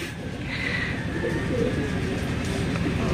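A pigeon coos softly, low and throaty, against a constant hum of background noise, with a faint chirp early on.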